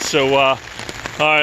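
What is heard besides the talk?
heavy rain pouring during Hurricane Isaias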